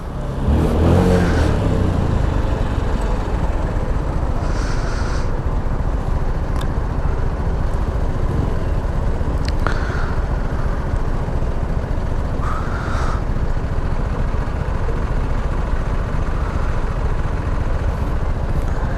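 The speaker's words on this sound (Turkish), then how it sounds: "Bayağı bir trafik var ya." Heavy Saturday road traffic of cars and motorcycles forms a continuous, loud engine drone and whir, with occasional passing vehicles swelling briefly above the steady roar.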